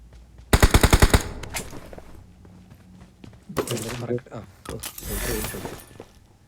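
A rapid burst of gunshots fires in a tight volley, followed by thuds, shouting voices and another loud crack.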